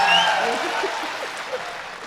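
An audience claps at an all-India Hindi poetry gathering, a short burst of crowd applause that starts strong and tails off over about two seconds.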